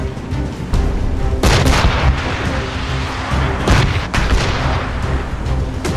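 Ship cannons fire in Assassin's Creed Rogue during a naval battle, loud booming volleys with rumbling blasts that overlap and echo, several heavy shots in quick succession before the noise settles into a lingering low roar.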